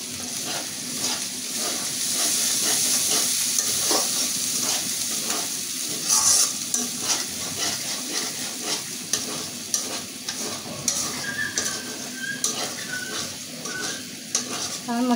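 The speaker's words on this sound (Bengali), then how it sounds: "এই মশলাটা ভালো করে কষিয়ে নেব।" Spice masala being stir-fried in a pan, a continuous close sizzle broken by frequent scraping and clinking of a utensil against the pan, fairly loud and steady throughout.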